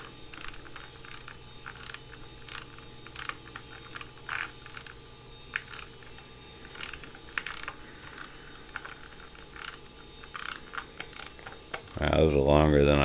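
A hand ratchet runs bolts down snug on a Vortec engine during a rebuild, giving a string of quick clicking bursts at close range over a steady shop hum, before a louder whirring sound at the end.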